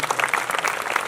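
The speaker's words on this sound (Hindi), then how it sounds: "एक बार जोरदार तालियां लगा दो जी" Applause from a crowd at a night-time Mahadev jagran devotional gathering in Vikas Nagar, Karnal, Haryana, a brief burst of dense rapid clapping, close and fairly loud, with no talking.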